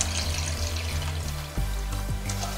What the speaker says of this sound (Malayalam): ഇതിലേക്ക് നമ്മൾ നേരത്തെ റെഡിയാക്കി വെച്ചിരുന്ന ജ്യൂസ് ചേർക്കാം